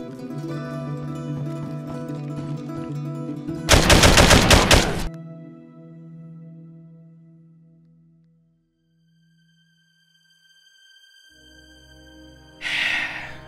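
Gunfire in the video game DayZ: a loud, dense burst of rapid shots lasting about a second, then a shorter burst near the end, over droning game music and ambience.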